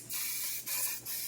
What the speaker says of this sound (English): I'm just spraying along the sides because it makes it easier to clean